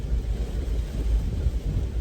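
Steady rainstorm roar with a low rumbling of thunder underneath, a continuous dense wash of sound with no voices.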